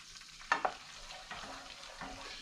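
Butter browning in a pan while being stirred, a faint quiet sizzle with a couple of sharp clinks of the utensil early on, then soft scraping.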